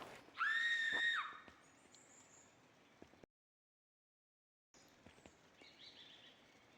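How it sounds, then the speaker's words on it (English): A shrill, sustained scream rises and holds for nearly a second in the video game Pentiment, sounding somewhat distant, followed by quieter ambient noises and faint chirps. "Gosh, so extended screaming."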